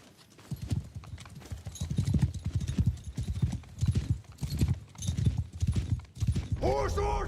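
Horses gallop in the video game Mount & Blade: Warband, with dense rhythmic clip-clop hoofbeats in repeated bursts, a whinny near the end, and voices heard throughout.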